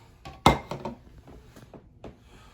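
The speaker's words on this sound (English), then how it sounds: "Now I'm gonna add 2 cups of carrots that I've diced up" Diced carrots tumble into a soup pot with one sharp clatter followed by a few lighter knocks and scrapes as the pieces settle, close and otherwise quiet.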